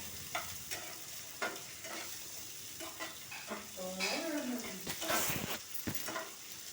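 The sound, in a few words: ivy gourd (dondakaya) slices frying and being stirred in pan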